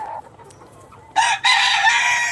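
White layer hens about a hundred days old cluck close by, with a faint call first, then two loud bursts of squawking clucks in quick succession, no talk.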